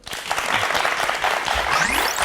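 Loud, dense applause from a crowd, steady clapping filling the whole moment with a rising whistle-like tone near the end.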